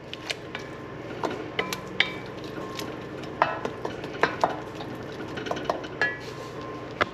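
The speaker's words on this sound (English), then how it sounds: "Be mindful to stir this so it doesn't burn." A spoon stirs sofrito of celery and carrot in a pot, scraping and knocking against the metal in irregular sharp clicks over a steady low sizzle.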